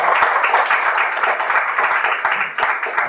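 An audience at a prize distribution program claps steadily in a dense, sustained round of applause, loud and continuous throughout.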